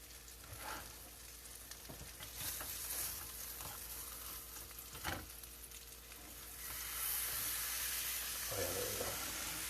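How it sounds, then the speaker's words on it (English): Pork chops searing in butter in a pan give a steady close sizzle with occasional clatter, and the frying grows louder toward the end, with no talking. "The butter gives them a really nice golden brown sear to it"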